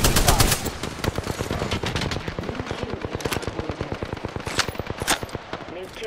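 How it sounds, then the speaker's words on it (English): Sustained automatic gunfire from enemies in the game Apex Legends, a dense rapid stream of close, loud shots running throughout with a few sharper bursts, and some voice in the mix. "The enemies are shooting at me."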